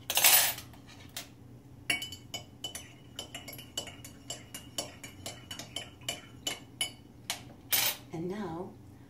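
A metal spoon stirs a salt solution for a neti pot, a run of light, evenly spaced clinks against the container, close and clear, with a faint shuffle at the end and no talking.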